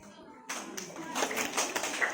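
Scouts at a weekend camp try the finger version of the Pramuka clap, a light, bright patter of claps starting abruptly after a quiet moment, with a voice faintly underneath.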